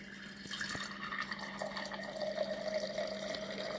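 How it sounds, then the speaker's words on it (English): Water runs steadily from a tap in a shed, a continuous close hiss and splash with a faint tonal hum beneath, and no talking. "Let me just get some water here because I'm thirsty."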